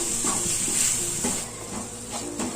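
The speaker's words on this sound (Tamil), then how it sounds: "அடி பிடிச்சிடாம ஸ்டவ் சிம்ல வச்சு வதக்குங்க கொஞ்சம்." Ginger and garlic sautéing in a pan on a low flame for a spicy chicken gravy, a steady soft sizzle with light scraping strokes of stirring recurring every half second or so, close and without talk.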